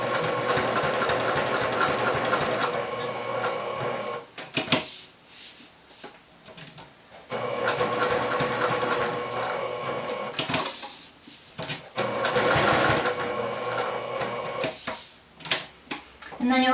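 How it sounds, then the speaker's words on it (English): Sewing machine stitching down the side of a bag handle, running in long steady humming stretches broken by short pauses and clicks as it back stitches and stops, with faint talk in the gaps. "And then you'll back stitch and sew down the side."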